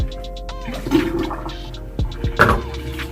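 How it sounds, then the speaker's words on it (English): Water rushing over a curly headband wig as soap is rinsed out, a steady loud gushing flow with a few splashy surges, close by and alone. "I am about to rinse this out."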